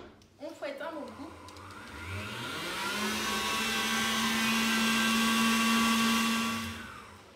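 A Cooking Chef mixer whisks amaretto and mascarpone, its motor whirring up into a steady, loud hum that holds for several seconds before winding down, with a voice talking briefly at the start.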